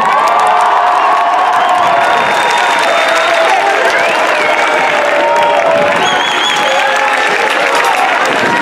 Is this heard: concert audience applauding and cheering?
yes